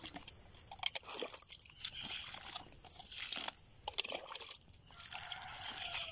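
Water trickles and splashes steadily from a watering can onto flowers, with brief pauses, while birds chirp faintly in the background.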